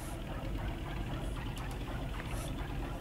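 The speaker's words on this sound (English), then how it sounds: "I'm just trying to start this engine." A DHC-2 Beaver's radial engine in the X-Plane flight simulator rumbles steadily at a low idle, a continuous, even drone with a faint knocking texture and no speech over it.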